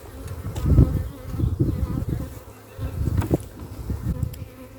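Dense swarm of bees buzzing loudly and close while nucs are installed into a hive, a continuous droning hum with surges and individual bees passing near, no talking.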